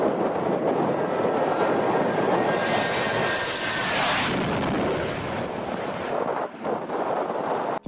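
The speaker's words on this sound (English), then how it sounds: "This SU-34 goes around." A Su-34 fighter jet going around roars continuously and loudly nearby, a broad engine rumble with a whining edge that shifts as the aircraft passes.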